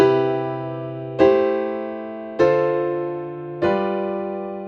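On piano, a sequence of four sustained chords is played, each struck firmly about every second and a quarter and left to ring and slowly decay before the next one, bass notes under the upper harmony, with no talking.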